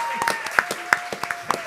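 A handful of scattered hand claps from an audience at a panel on separation of powers, applauding the panel organizer, with a voice talking over the sparse, uneven claps.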